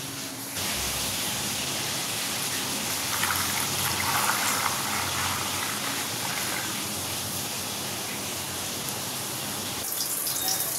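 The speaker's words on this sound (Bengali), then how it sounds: "এখানেই জল নিয়ে এসে ভিজিয়ে রেখে দিই" Water poured steadily into a container to soak mangoes, a continuous rushing splash that starts abruptly, holds evenly for about ten seconds, then cuts off.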